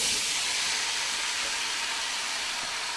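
Drained potatoes fry in a pan over medium-high heat, giving a steady, even sizzling hiss that holds without a break, close by and with no talking.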